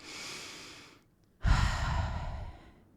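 A single deep breath taken by a man: a soft inhale, a brief pause, then a loud, close exhale that tapers off, with no talking.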